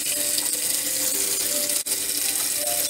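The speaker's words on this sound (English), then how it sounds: "So now what I'm going to do is fill up a pot full of water." Tap water runs steadily into a big soup pot, a constant close rushing hiss with no talk and only a brief dip in the flow.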